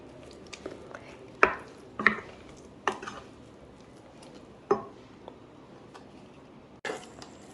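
Cooked pongal rice is mashed in a pressure cooker, giving soft, irregular thuds and scrapes of a utensil against the metal pot, spaced a second or so apart in an otherwise quiet kitchen.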